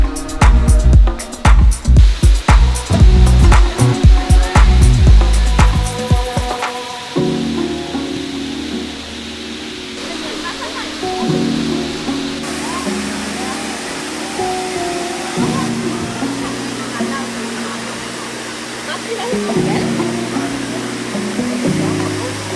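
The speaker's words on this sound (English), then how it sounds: "Look at the waterfall behind me now." A waterfall in the Black Forest near Freiburg gives a steady, close, full-bodied rush of falling water, with heavy low buffeting and thumps over the first several seconds before it settles into an even roar.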